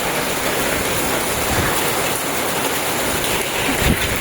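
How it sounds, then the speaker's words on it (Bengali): Steady rain falls outdoors on a rainy day, a loud, continuous wash of drops striking surfaces with a faint low rumble near the end, no speech. "অনেকক্ষণ অপেক্ষা করলো কিন্তু বৃষ্টি থামার নাম নেই।"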